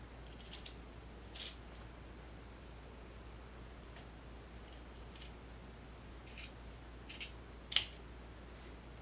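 Scissors trimming Minky plush fabric, faint and close, with a few short separate snips spread across a quiet background hiss and no talking.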